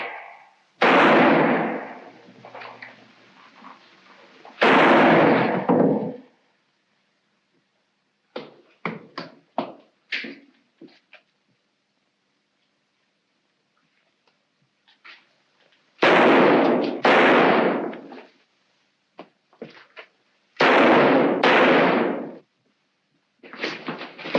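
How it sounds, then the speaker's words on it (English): Loud, sharp bursts in an old Sherlock Holmes mystery: two heavy cracks near the start, scattered softer knocks and clatter, then two more booming blasts close together near the end, with silent gaps between. "I think I can manage this with one shot"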